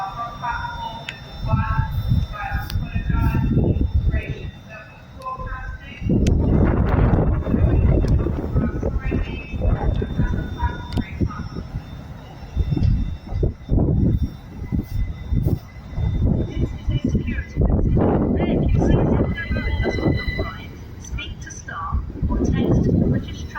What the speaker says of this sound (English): The train's coming in really slowly, guys, because of the rainy weather.